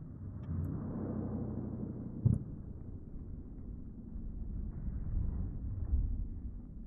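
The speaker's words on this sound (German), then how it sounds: "Der Motor läuft übrigens noch" A car engine in BeamNG Drive hums steadily at a low, moderate idle after a crash into water, with a brief clunk partway through and slight swells in the rumble.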